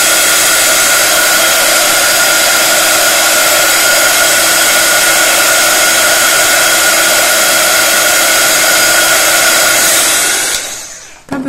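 An embossing heat tool blows hot air onto embossing powder on a handmade card, a loud, steady, close whooshing roar that holds unbroken for about ten seconds before switching off.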